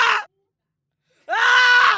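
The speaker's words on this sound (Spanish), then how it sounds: "Fue en ese momento que pudo gritar, un bramido que emergió de lo más profundo de su ser." A man's deep, anguished scream in two bursts: a short cry cut off, a second of silence, then a longer sustained bellow, loud and close.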